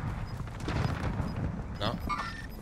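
Gunfire in the shooter Warzone: a scattered burst of shots and distant booms, moderately loud and irregular across a couple of seconds, with a higher tonal game effect near the end.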